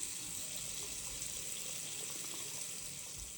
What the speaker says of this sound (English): Then turn on a hot faucet to make sure all the air is out of the system.